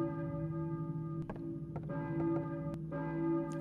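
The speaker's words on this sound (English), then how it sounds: "I hear a church bell, maybe?" A church bell tolls inside the Silent Hill video game, its sustained ringing tone swelling and holding steady under faint scattered clicks and ticks.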